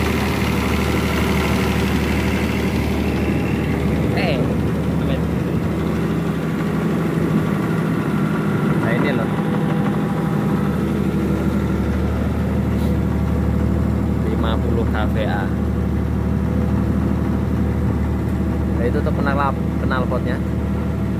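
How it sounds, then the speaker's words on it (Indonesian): A 50 kVA generator with a Nissan engine runs at a steady, loud idle close by, its low hum continuous throughout, with faint chirps and brief sounds over it. "Ini generatornya lor. 50 kVA. Dan ini untuk mesinnya mesin Nissan lor."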